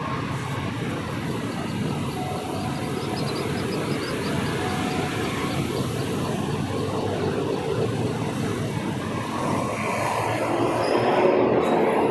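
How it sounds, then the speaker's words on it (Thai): Morning train passing along Narathiwas Road near Silom, a continuous broad rumble and rattle of wheels on rail with faint squeals, steady and fairly close throughout. "ในช่วงเช้าก็จะมีรถไฟวิ่งผ่านประมาณนี้เลยครับ"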